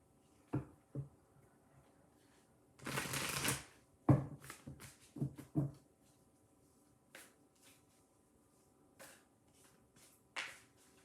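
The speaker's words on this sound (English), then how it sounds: "let's shuffle these cards a little bit." Tarot cards riffle in one quick, crisp shuffle, followed by scattered soft taps and flicks of cards being handled in a quiet room.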